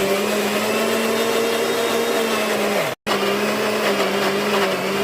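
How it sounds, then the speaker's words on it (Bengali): Kitchen mixer grinder whirring as it blends chatu flour with milk into a paste, a loud steady motor whine with one brief cut-off at the midpoint before it restarts at full speed. "এবার এটা মিক্সিতে পেস্ট করে নেব।"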